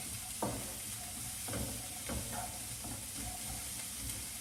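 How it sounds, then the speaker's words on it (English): Carrots and onions fry in oil in a pan, giving a quiet, steady sizzle broken by several soft scraping stirs. "cooking some carrots and onions"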